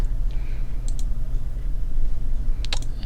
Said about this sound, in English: so I'm going to try clicking on that.